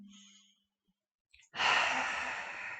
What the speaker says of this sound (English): just take some breaths here